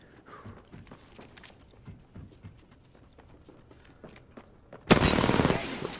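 Gunfire in the video game Apex Legends: a short burst of loud shots near the end after faint scattered footstep-like taps.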